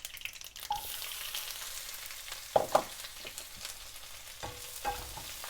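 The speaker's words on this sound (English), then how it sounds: "Our oil is ready, so we start adding our mustard, our red chillies, our crushed garlic" Mustard seeds, red chillies and crushed garlic sizzling in hot oil, a continuous soft frying hiss with a few sharp pops and stirring clinks, close and fairly quiet without talk.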